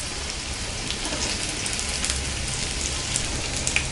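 Bread cheese rolls and vegetable rolls frying in oil over a low flame, giving a steady, dense crackle and hiss with scattered tiny pops, close and even throughout.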